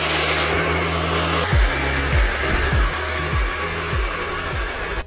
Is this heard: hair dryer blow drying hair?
yes